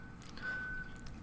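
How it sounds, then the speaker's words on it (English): A truck's reversing beep sounds near a port, a single faint steady tone heard at a distance over low background rumble, with no voices. "if you hear like a truck backing up right now"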